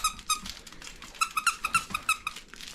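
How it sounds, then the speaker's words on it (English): A dog toy's squeaker gives a quick series of sharp, high squeaks in an irregular rhythm, close and fairly loud, with no talking. "You got a squeaker?"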